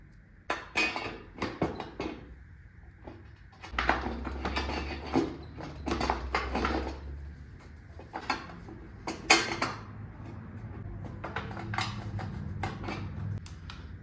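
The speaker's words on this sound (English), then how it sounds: "let's get the seat bolted down because I don't care about that. I've got my bolts, got my tools." Tools at work bolting a seat down in a van kart, heard as irregular, close metallic clanks, rattles and ratcheting clicks with short pauses between bursts, and no talking.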